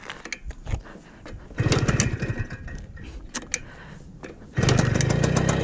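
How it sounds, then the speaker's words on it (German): A Zündapp or Simson moped engine being kicked over with mechanical clatter, catching briefly, dropping back, then starting and running loudly nearby. "wieder anmachen die Kiste"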